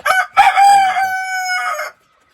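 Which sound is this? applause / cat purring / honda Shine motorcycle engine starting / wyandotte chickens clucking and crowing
wyandotte chickens clucking and crowing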